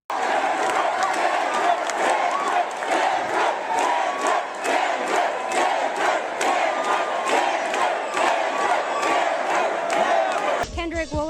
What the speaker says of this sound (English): the crowd were involved too, as they kept chanting